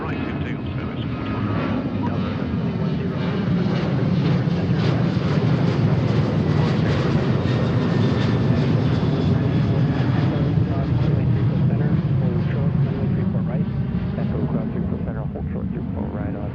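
A SkyWest regional jet takes off from runway 34 right at Seattle on a Delta flight to Salt Lake City, giving a loud, continuous, broad engine roar that holds steady throughout.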